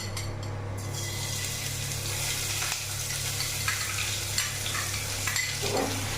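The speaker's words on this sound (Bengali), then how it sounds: "পেঁয়াজটা হালকা ব্রাউন করে ভেজে নেব।" Chopped onion frying in hot oil in a pan for prawn biryani, a steady loud sizzle with occasional stirring scrapes, no talking over it.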